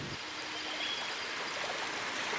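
A waterfall pours in a theme park video game, a steady, full rushing of falling water heard close and continuous, with no voices.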